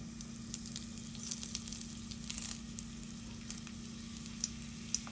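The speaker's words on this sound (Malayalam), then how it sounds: "നമ്മുടെ ചട്ടി ചൂടായിട്ടുണ്ട്. അപ്പം നമുക്ക് അതിനകത്തോട്ട് ആവശ്യത്തിനുള്ള എണ്ണ ഒഴിച്ചു കൊടുക്കാം. കറിവേപ്പില ഇട്ട് കൊടുക്കാം." Steady crackling sizzle of curry leaves frying in hot oil, close and continuous, with brief louder pops scattered through and a low hum underneath.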